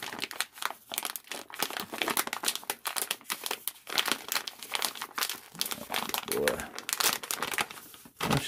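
A plastic grow bag is crinkled and crumpled up close as a mushroom spawn cake of colonized rice is worked out of it. The rustling is continuous and irregular.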